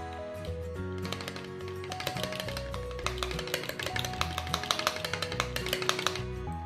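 A spoon stirs basil and other ingredients inside a mug, giving a quiet, quick run of light tapping and clinking against the sides.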